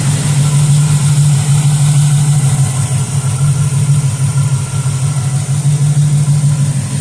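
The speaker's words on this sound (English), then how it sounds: "I'll let it run here for a couple minutes," A second-generation Camaro engine idles close and loud, a steady low rumbling drone with an even throb that holds unchanged throughout.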